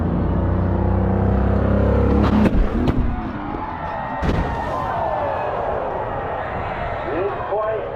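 A stunt car launches off a ramp and crashes at a stunt-jump show in Auburndale, with a loud engine roar giving way to sharp impact bangs and a crunch, then crowd noise and voices over the wreck.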